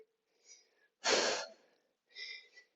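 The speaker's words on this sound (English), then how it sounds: "You can hear me breathing, I'm sure." Heavy breathing during a cardio and core workout: a soft breath, then a strong forceful exhale, then another breath, close to the microphone.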